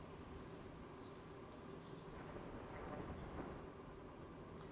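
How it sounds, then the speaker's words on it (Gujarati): A thunderstorm with heavy rain and strong wind during unseasonal weather in Amreli, Gujarat: a steady, dense roar of rain and gusts throughout, with low thunder rumbling beneath. "ભારે પવન અને ગાજવીજ સાથે વરસાદ વરસ્યો હતો"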